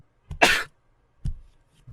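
A few sharp coughs from a painting in the game Ib, close and fairly loud: one harsh burst, a shorter second cough a moment later, and the start of a third, with silence between.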